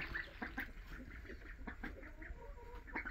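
Cartoon ducks quack in a quick, irregular series of short calls, fairly close and lively, with no talking over them.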